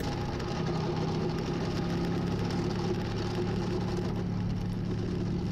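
A CFMOTO ZFORCE 800 side-by-side fitted with a KFI plow blade runs steadily while plowing snow, its engine a constant, even mid-pitched drone heard up close without any talk.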